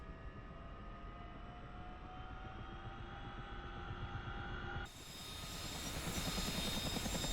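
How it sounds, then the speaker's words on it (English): CH-47F Chinook helicopter engines in the DCS flight simulator whine and rumble steadily, pitch slowly rising, then a sudden shift to a louder, fuller rotor roar that keeps building. "the helicopter's starting to get ready to fly"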